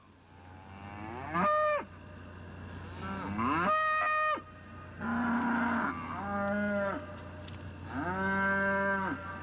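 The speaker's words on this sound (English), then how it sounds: "the cattle belonging to the Rose Allen family near Ponchatoula are restless" Restless cattle on a farm near Ponchatoula low and moo at night, with about five long, drawn-out calls coming one after another with short gaps, fairly loud and close, over a steady low background hum.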